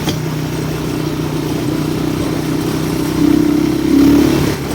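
A motorcycle engine runs steadily close by, a low droning hum that swells louder for a few seconds near the end, with no talking.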